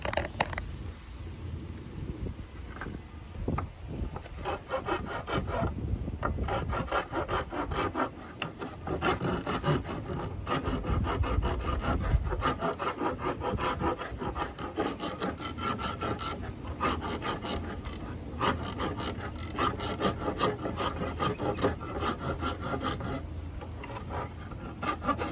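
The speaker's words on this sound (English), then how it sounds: "Going to do a little rasping." A rasp files steadily along a hickory board bow, rough scraping strokes repeating in a continuous rhythm, close and fairly quiet with no talking.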